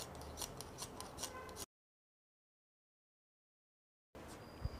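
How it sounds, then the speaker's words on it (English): Scissors snip through fabric while a bubu kimono dress is cut out, with a quick run of close, crisp cuts, then a silent gap, then a few more cuts. "So I'll be cutting it out."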